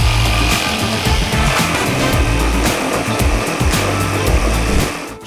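A Parkside Performance 12V cordless jigsaw cuts through wood with a loud, close, continuous buzzing saw rattle that holds steady for several seconds before tapering off at the end, with no voices.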